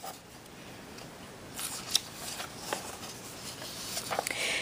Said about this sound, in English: So what I'm going to do is I'm going to do the flip through, and I'm going to just skip over the duplicate page